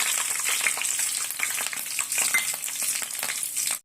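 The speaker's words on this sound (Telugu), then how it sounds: "తర్వాత ఆయిల్ వేసుకుని పచ్చిమిర్చి వేసుకోవాలి." Green chilies sizzle and crackle in hot oil in a pan, a steady dense frying hiss with scattered pops and occasional stirring scrapes, close and continuous throughout with no voices.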